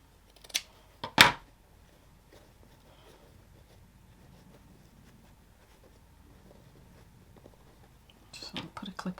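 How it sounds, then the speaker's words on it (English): Scissors trimming fabric binding on a clamshell sling, heard as two crisp snips close up at the start, then quiet handling, and a flurry of soft rustles and clicks near the end. "so I might trim a little bit underneath just to get it out of the way"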